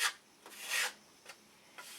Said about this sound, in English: Sand up to the line.